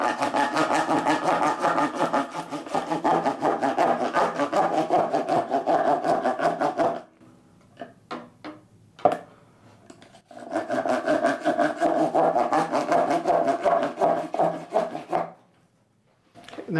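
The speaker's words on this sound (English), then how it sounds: "Start cutting with a bread knife." A bread knife saws through a block of clear ice in steady, rasping back-and-forth strokes, loud and close, broken by a pause with a few scattered scrapes and taps before the sawing resumes and then stops.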